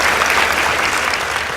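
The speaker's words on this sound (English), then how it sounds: "Please give them a round of applause." A school debate audience in Kisumu applauds, with dense, steady clapping from many hands filling the hall close up and loud throughout.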